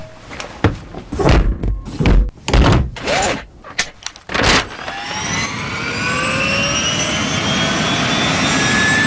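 After a run of loud thumps and clunks, a helicopter's turbine engine rises into a steady, loud whine and roar in flight, with rising tonal sweeps as it spools up and holds.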